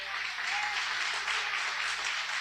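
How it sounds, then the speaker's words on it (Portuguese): A church congregation claps and applauds loudly and steadily for the full stretch, a dense, continuous wash of hands with no pauses or voices standing out. "Aplauda bem forte ao Senhor."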